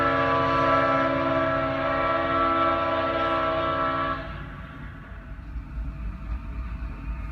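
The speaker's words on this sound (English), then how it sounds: "the first train we see is a Norfolk Southern northbound intermodal train passing the COMRC, with the solo SD70M leading the way with a beautiful Leslie RS5T horn" Norfolk Southern northbound intermodal train led by a lone SD70M sounds its Leslie RS5T horn in a loud, sustained chord lasting about four seconds, then cuts off, leaving the rumbling roll of the passing train.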